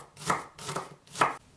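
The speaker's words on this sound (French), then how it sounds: "Je coupe les aromates en petits morceaux" Three crisp, evenly spaced knife strokes chop shallots and aromatics on a cutting board, close and distinct with short silences between.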